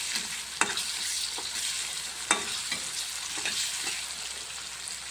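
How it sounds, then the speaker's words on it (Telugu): Chopped tomatoes fry in hot oil in a pan and are stirred, giving a steady close sizzle with occasional soft scraping strokes of the spoon, and no speech. "టమాటాలు కూడా మంచిగా నూనెలో ఉడుకుకోవాలి."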